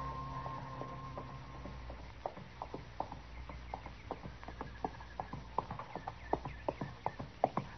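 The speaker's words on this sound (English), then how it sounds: "I heard a horse coming along the trail" A horse approaches along a trail, its hooves clip-clopping in a steady walking rhythm that grows louder and closer over several seconds against a low, quiet outdoor background.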